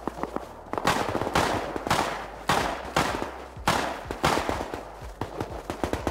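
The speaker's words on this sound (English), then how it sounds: "We're shooting at long range" Bursts of gunfire from a long-range firefight in the video game Rust: repeated loud volleys and rapid rattling strings of shots, some sharp single cracks, continuing steadily with brief gaps.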